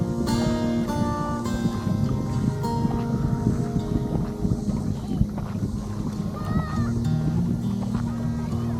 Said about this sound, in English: Wind is kind of gusty.